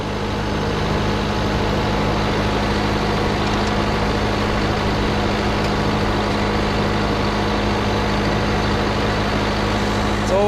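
A farm tractor engine runs steadily from inside a crowded cab, its low, even rumble continuing at constant loudness throughout with a faint voice or two beneath.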